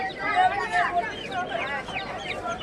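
Chickens at a pet market cluck in quick, overlapping bursts close by, with people talking among them.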